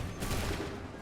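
A volley of muskets fired on command in the video game Assassin's Creed 3: one brief, loud burst that decays quickly.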